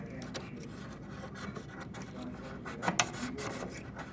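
A blade trimming thin shavings off the edge of a dollhouse floor gives soft, quiet rasping strokes, steady and close, with a slightly sharper scrape near the end.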